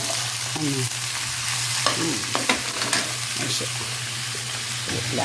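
Vegetables for lumpia fry in a pan with a constant loud sizzle, while a utensil stirs and scrapes them in irregular clatters. A voice speaks briefly near the start.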